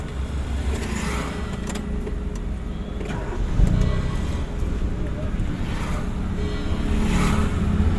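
A driving school car pulls away slowly, its medium engine humming low and close with a slight rise partway through, while a voice speaks over it.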